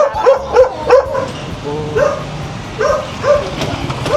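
A puppy barks and yips in a roadside setting, a quick run of three high barks followed by several more spaced out, close and loud.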